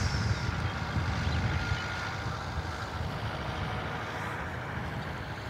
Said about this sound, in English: Moving two tractors out of the way at once.